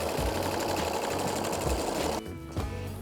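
A sewing machine runs steady stitches through a denim patch on jeans, a fast, even mechanical chatter that stays close and loud, then eases slightly near the end, with no voices.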